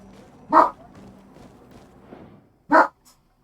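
Two loud, sharp single barks from a dog, a Czechoslovakian wolfdog in the Greedfall video game, spaced about two seconds apart, close by over a quiet low ambient bed.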